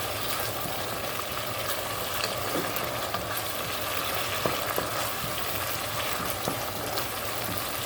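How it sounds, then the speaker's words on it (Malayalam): Chilli chicken with vinegar stir-frying on high flame, a steady, dense sizzle and hiss throughout with faint stirring scrapes, fairly soft and unbroken, with no talk. "ഇനി ഇതെല്ലാം കൂടി നമുക്ക് നന്നായിട്ടൊന്ന് മിക്സ് ചെയ്തെടുക്കാം. എപ്പോഴും ഹൈ ഫ്ലെയിമിൽ തന്നെയാണ് കേട്ടോ നമ്മൾ ഇട്ടേക്കുന്നത്."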